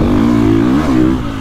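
A KTM 450 Factory Edition motorcycle engine revs hard and close, a loud, steady thumpy drone that rises slightly and dips near the end, with no talk over it.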